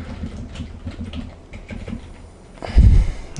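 Fingers tapping out an email address on a computer keyboard, with faint, irregular clicks in a quiet room and one louder thump near the end. No speech.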